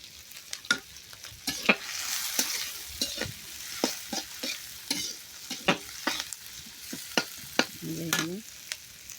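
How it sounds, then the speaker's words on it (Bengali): Beef, about four kilograms, frying and being stirred in a pan for a village-style curry, with steady sizzling broken by repeated sharp scrapes and clacks of a spoon against the metal, close and fairly loud. "গরুর মাংস দেখতে পাচ্ছেন এই এটা ভাজা ভাজা হবে"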